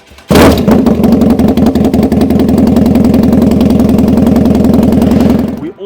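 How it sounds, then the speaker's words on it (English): A BMW R nineT motorcycle with a full Zard exhaust with twin mufflers fires up with a sharp crack and settles into a loud, close, throbbing idle with a steady rapid pulse for several seconds. "we've put a full Zard exhaust. This has two mufflers on both sides. It's an extremely loud exhaust"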